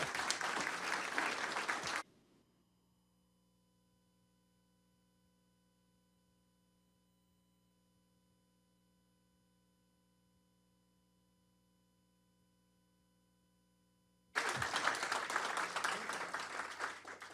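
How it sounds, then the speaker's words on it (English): Audience applause for city council candidates at a September 2024 forum, with loud clapping for about two seconds, then a long near-silent stretch with a faint hum, then another burst of applause near the end. "Let's give all of our candidates a round of applause."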